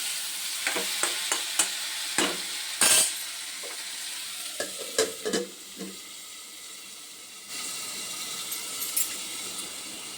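Plantain and potato frying in a pan, with a steady soft sizzle running throughout and repeated clinks and scrapes of a spatula stirring, plus a brief splash of water midway; no talking.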